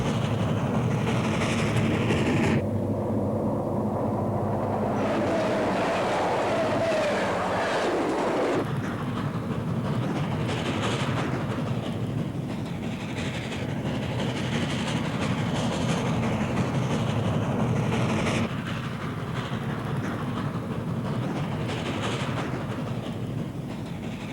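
A 3-cylinder 9000 class steam locomotive helping a freight train over Sherman Hill, a steady rumbling roar of the train passing with rhythmic rail clatter, loud and continuous throughout.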